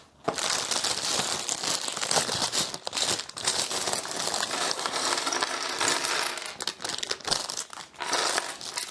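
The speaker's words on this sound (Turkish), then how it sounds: "İkinci paketi açmam gerektiğini söylüyor." A plastic bag holding LEGO Harry Potter set 76386 pieces is being opened up close, producing continuous crinkling and rustling with small clicks of loose plastic parts shifting inside.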